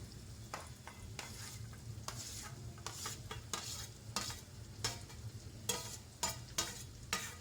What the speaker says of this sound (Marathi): तर आता ते वांगं आपण आपल्या फोडणीत टाकूया